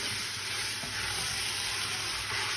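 Beef pieces browning in a hot pan for a casserole, a dense continuous sizzle and frying hiss with faint stirring, steady and close throughout, no voices.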